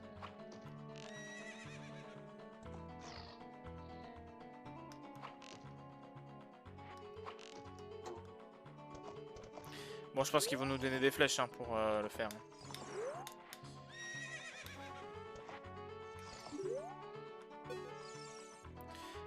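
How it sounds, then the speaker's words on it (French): Horse neighing and clip-clopping hooves in The Legend of Zelda: Ocarina of Time, near the Gerudo Fortress, with repeated whinnies over game music and someone talking in French throughout. "Fais galoper ton destrier et décoche des flèches"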